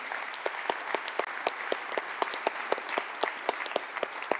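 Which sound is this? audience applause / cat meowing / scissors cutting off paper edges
audience applause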